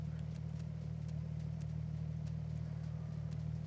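A twin-turbo car engine in Forza Horizon idling or cruising at a steady low drone, a constant deep hum with faint periodic ticks above it and no change in pitch.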